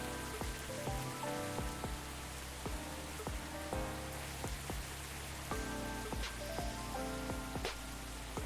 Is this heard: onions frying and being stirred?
no